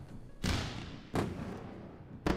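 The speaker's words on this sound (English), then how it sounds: "Let's go for a round of fireworks." A fireworks sound effect plays as three sharp booming bursts, each followed by a decaying crackly rumble; the last burst is cut short.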